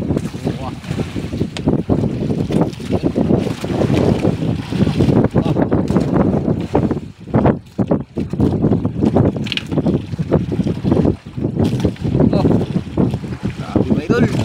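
Strong wind buffets the microphone on a boat at sea in loud, gusty bursts throughout, with waves and voices talking underneath.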